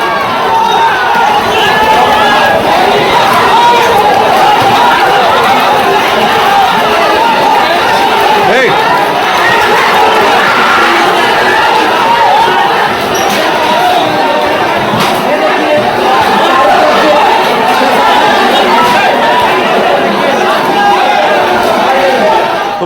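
A large crowd clashes with police in Gorakhpur, a loud, dense roar of overlapping shouting and chatter with the sound of people running that holds steady throughout, with no clear breaks.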